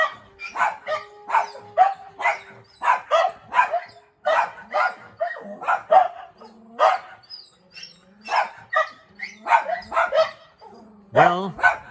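Two small dogs bark repeatedly inside a garage workshop at other dogs outside, a close, steady series of sharp yips and barks with a whiny yelp at the end.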